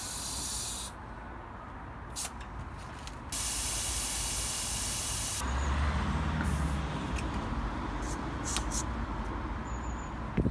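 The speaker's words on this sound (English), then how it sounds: "Deflate the tyres to your desired pressure." Air hisses out of a mountain bike's tubeless tyres as they are deflated, in steady bursts of broadband spray that stop and start several times, fairly loud and close, with no talking.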